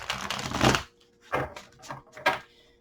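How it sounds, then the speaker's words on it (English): Tarot cards shuffled by hand in a quiet room, three short papery riffling bursts, the first longest, separated by brief pauses. "I'm going to shuffle your cards up."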